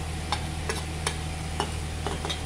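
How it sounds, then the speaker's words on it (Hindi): Ground spices are stirred in a frying pan with a spoon, giving faint, evenly spaced scraping ticks over a steady low background hum. "इनको अच्छे से मिला लीजिए"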